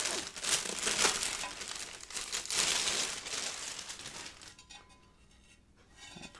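Plastic packaging crinkles and rustles as an Audio-Technica AT-LP60 record player platter with its pad is unwrapped, close and busy at first, then quieter handling toward the end.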